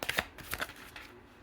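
A deck of cards is shuffled during a card reading, giving a short, close flurry of soft riffling slaps that fades within a second and a half.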